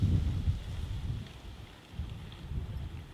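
Low, rumbling wind buffets the microphone during a bicycle tour at Plöner See, with steady gusts that swell and ease without any talking.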